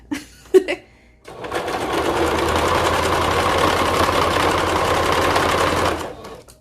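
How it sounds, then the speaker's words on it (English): A sewing machine back stitching on slim harem pants, a couple of brief handling knocks and then a steady, fast mechanical whir of needle strokes running for several seconds before stopping. "I'm going to back stitch, go forward a little bit more, and the back stitch."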